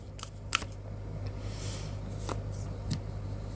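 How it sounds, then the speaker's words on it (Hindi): Tarot cards are shuffled by hand nearby, giving soft riffling and faint flicks with a few sharper snaps over a low constant hum, all quiet. "Last shuffle."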